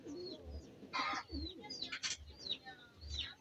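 Soft low pigeon coos repeat at a steady pace, mixed with a few chirps and brief flutters nearby.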